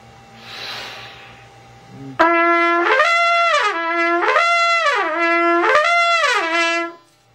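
A brass instrument slides smoothly up and down an octave through its harmonics, repeating the sweep several times in a steady, sustained tone.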